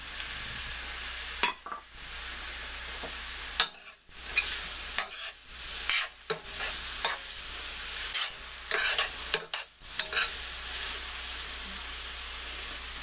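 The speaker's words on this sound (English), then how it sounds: "And now I'm going to add my brats." Brats fry in a pan for a vegetarian stroganoff with sauerkraut, a steady close sizzle broken by repeated stirring and scraping strokes, with no talk.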